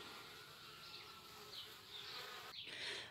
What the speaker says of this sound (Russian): А пчелки работают.